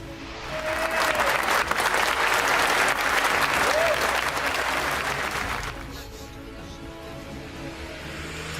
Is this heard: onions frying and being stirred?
no